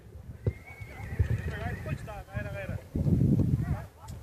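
Horses neigh and whinny loudly at a kok-boru game, several calls close to the microphone, with hooves clip-clopping over crowd noise and people talking.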